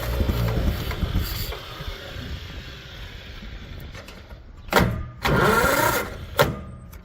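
An old John Deere MV tractor engine cranks in bursts, with mechanical rumbling and a couple of loud surges near the end as it tries to catch.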